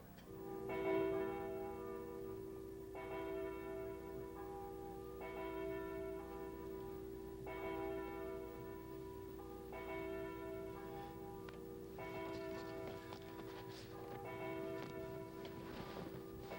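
Church bells ring on a Sunday morning, a rhythmic series of resonant tolls repeating about every two seconds over a steady low hum, somewhat distant and fairly quiet.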